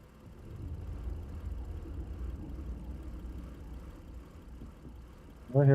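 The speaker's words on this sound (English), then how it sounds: "I hear a car running." A car engine runs in a video game, a faint low rumble at idle holding steady in the background before a louder burst near the end.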